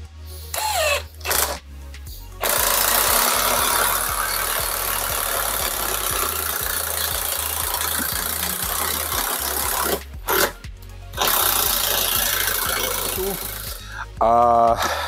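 Villager VLP 5720 cordless impact driver with 400 Nm torque driving long screws, long stretches of loud rapid hammering rattle broken by brief stops, close, with someone talking between runs.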